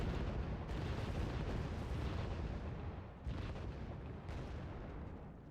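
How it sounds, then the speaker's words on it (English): Napalm strikes in the Wargame: Red Dragon strategy game, a dense, continuous roar of booming explosions and fiery rumble that stays loud throughout, with fresh bursts at regular intervals. "here comes the napalm drop. It should be right on target."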